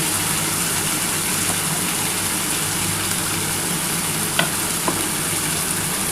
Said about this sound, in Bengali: মশলার জলটা দিয়ে খুব ভালো করে এটা কষাতে হবে।